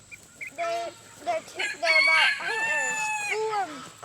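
Bantam Silkie chickens, the tiny fluffy breed, cluck and call in short bursts close by, with a rooster-like crow rising among the hens.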